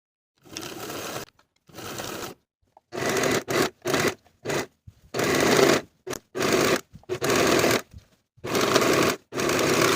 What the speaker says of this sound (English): I'll sew closed the gap in my stitches following the original stitching line